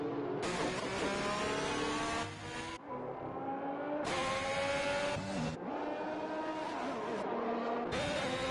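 F1 2021 race cars on the Shanghai circuit run behind the safety car, their engines holding a loud, steady high-pitched whine that rises and falls in pitch as they change gears in long stretches.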